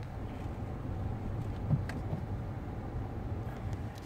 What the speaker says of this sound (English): I'm just gonna put it, the clutch in and show you the revs working.